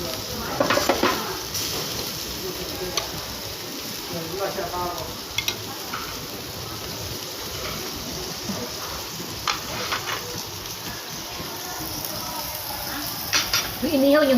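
Shrimp grill on a tabletop grill at a Korean all-you-can-eat restaurant, sizzling steadily under scattered clinks of utensils and dishes, with people talking nearby.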